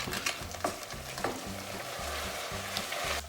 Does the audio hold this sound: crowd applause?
no